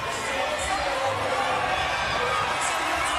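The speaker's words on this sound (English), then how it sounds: "You can hear the crowd." Spectators filling a gym at an under-19 men's all-star basketball game, a steady roar of crowd noise and chatter throughout, with a few faint shouts rising above it.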